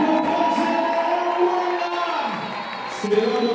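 Congregation at a French-language church celebration event cheers and shouts in welcome, a steady crowd roar with scattered whoops layered under a faint voice.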